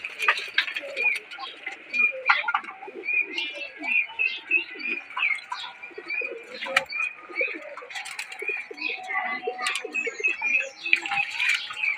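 Domestic pigeons at home, being given a bath, coo steadily at close range, with overlapping throaty coos and a few light chirps running throughout.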